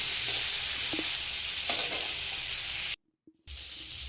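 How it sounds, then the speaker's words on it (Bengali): Winter vegetables for dalia fry with salt and turmeric in a pan, a close, steady sizzle with scraping stirs, briefly cut to silence for a moment before the hiss returns. "লবণ হলুদ দিয়ে ভালো করে ভাজা ভাজা করে নিতে হবে"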